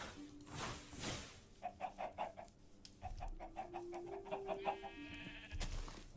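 Minecraft horses calling in a series of short, repeated whinnying bursts, fairly faint and set against low ambient game noise, with no speech.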